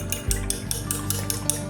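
Eggs beaten with a utensil on a plate for Polish pork chops, a quick, steady run of light clinking taps against the dish, close and moderately loud, with no talking.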